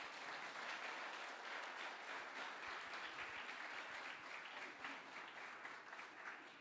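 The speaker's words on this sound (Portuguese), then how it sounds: "Se você toma posse, aplauda Jesus mais uma vez." Worshippers in a Brazilian church give sustained applause, a steady, fairly quiet patter of many hands clapping that continues without a break throughout.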